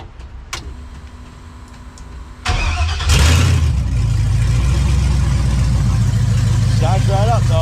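A 1965 Chevrolet C10 pickup engine cranks and catches, then settles into a loud, steady rumbling idle up close, with brief clicks and shuffling beforehand.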